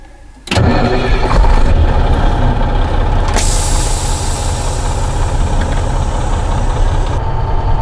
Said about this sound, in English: He's going to show how beautiful this truck sounds on the road